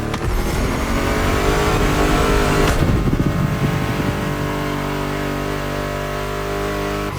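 Mustang GT muscle car in The Crew Motorfest racing game, its engine loud and revving hard with a rising roar, then settling into a steady high drone for several seconds with no voices.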